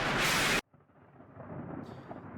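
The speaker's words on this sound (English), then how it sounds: "Lightning and thunder struck like an explosion." Thunder crashes in the Higurashi video game, a loud, sudden broadband boom lasting about half a second that cuts off sharply, followed by a quieter low rumble that slowly swells.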